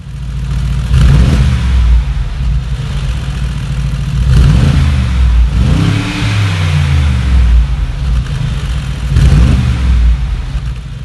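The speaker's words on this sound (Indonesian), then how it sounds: "jadi seperti itu ya suara mesin dari G63 ini" A 2018 Mercedes-AMG G63 Edition 1 twin-turbo V8 revs up in several strong bursts, each roar swelling and then dropping back toward a deep idle, loud and close with no talking.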